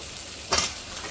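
Capsicum strips and vegetables sizzling in cooking oil in a pan, a soft steady fry with one brief louder scrape or stir midway.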